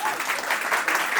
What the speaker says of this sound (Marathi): एकदा जोरदार टाळ्या वाजवून यांना चीअर अप करूयात आपण